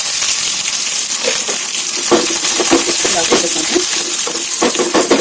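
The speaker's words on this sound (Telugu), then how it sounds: "కొంచెం ఆవాలు అయితే వేసుకోండి, కొంచెం మినపప్పు వేసుకోండి, ఎండుమిర్చి అయితే వేసేసుకోండి ఫ్రెండ్స్, కరివేపాకు అయితే వేసేసుకోండి" Mustard seeds, urad dal, dried chillies and curry leaves sizzling in hot oil, a loud, steady hiss with scattered pops and crackles throughout, close and alone.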